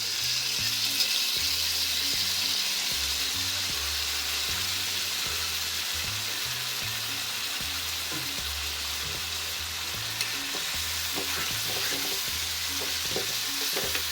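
Ginger, onion and garlic paste sizzles steadily in a hot pan for a fish curry, with a broad continuous hiss and occasional stirring scrapes, no talking.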